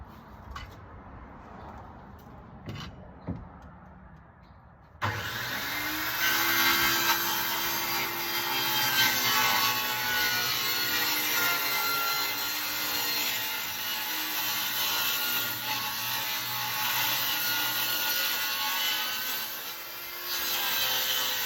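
A power saw cuts through a sheet of OSB sheeting on sawhorses, starting abruptly and running as a loud, steady, close whine with a gritty rasp that holds for about fifteen seconds, after a few soft handling knocks.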